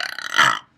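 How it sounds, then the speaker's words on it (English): A single loud close belch from a man, a short rough burst under a second long that swells and then cuts off abruptly. "just belch real quick before we go."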